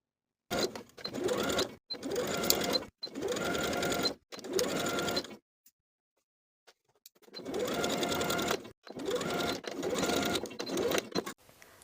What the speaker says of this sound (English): Sew from that edge of that neckline seam allowance to the opposite edge with a 5/8 inch seam